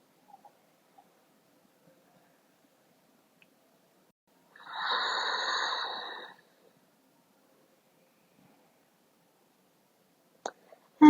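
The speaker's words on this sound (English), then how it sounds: "Two more deep breaths." A single slow, deep exhale during a gentle yoga relaxation for sleep, a soft breathy rush lasting about two seconds in an otherwise quiet room.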